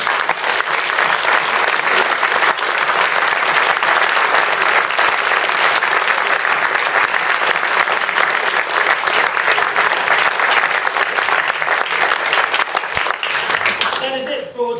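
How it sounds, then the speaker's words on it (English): Sustained audience applause at a school concert, a dense even roar of clapping that fills the whole stretch at steady loudness before thinning out at the very end. "And I'll allow to give a round of applause."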